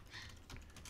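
Keys tapped on a computer keyboard, a quick run of close, soft clicks filling the second, with no voice over them.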